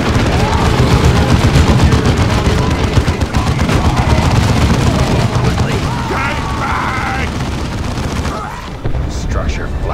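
Loud, sustained automatic gunfire and booming explosions from the game Dawn of War II, with battle voices mixed in, tapering slightly toward the end.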